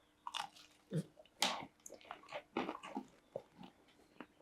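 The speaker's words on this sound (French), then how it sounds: "je te laisse croquer dans ce dernier Thunders" Someone bites into a crunchy Thunders spicy snack close to the microphone, giving several irregular crisp crunches and chewing bursts, fairly quiet with short pauses between them.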